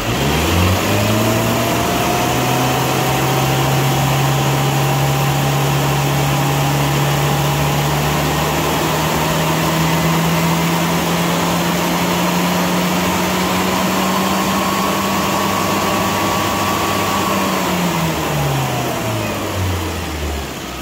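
A car engine revs up and holds a steady high RPM for most of the run before easing back down, a loud continuous drone with no talking.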